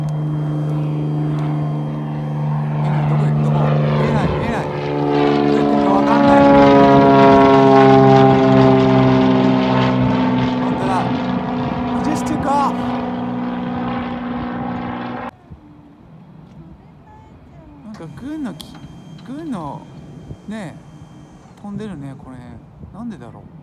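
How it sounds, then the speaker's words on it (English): A US Navy F-18 jet passes overhead with a loud, sustained engine roar whose pitch slides downward, then cuts off sharply, leaving quieter background sounds and people talking. "That's a US jet, man. US Navy jet. That's an F-18, I think."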